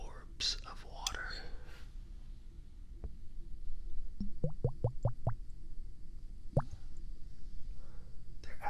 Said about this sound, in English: I call these the orbs of water.